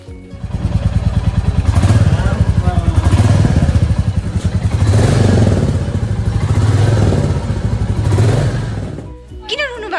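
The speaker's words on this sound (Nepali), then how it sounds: "बधाई नयाँ बाइक कर्मा" A newly bought motorcycle runs loud and close, its engine thumping in a steady pulsing rhythm that rises and falls for several seconds before easing off at the end.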